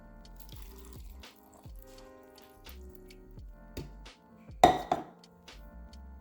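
Water trickles and splashes into a blender jar for a turmeric wellness shot, with light clinks of glass and utensils in a quiet kitchen, one brief louder pour near the end.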